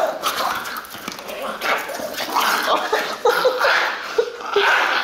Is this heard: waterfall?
no